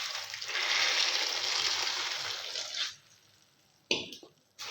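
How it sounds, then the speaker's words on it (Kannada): Water pours into a bowl of puffed rice (churumuri) as a soft, steady rushing stream for about three seconds. It stops, then one brief splash follows in an otherwise quiet room. "ಇವಾಗ ನೀರು ಹಾಕ್ಕೊಳ್ಳೋಣ."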